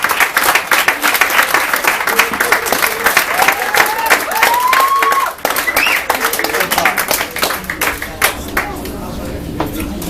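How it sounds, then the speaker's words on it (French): Loud, sustained applause and clapping from an audience at an event in Rennes, with scattered cheers and voices mixed through the crowd noise for several seconds. "je vous demanderai un tonnerre d'applaudissements pour le premier Nantais"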